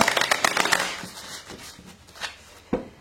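Tarot cards being shuffled close up, a quick run of crisp riffling flutters that slows into a few separate slaps and taps, with no talking.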